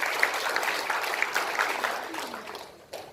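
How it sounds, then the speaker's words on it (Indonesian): About three hundred people in a motivational seminar audience clap together, a steady wash of applause that fades out toward the end. "Tepuk tangan kepada Anda."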